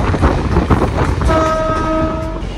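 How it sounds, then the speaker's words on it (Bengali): A train picking up speed on the approach to Ranaghat, loud rolling rumble and rattle, with a horn blaring clearly for about a second midway. "আবার তো ট্রেন স্পিড নিল রানাঘাটে ঢোকার আগেই"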